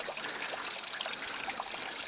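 Stream water trickles steadily into a water bottle on a hillside during a sheep hunt, a continuous close babbling with no talking.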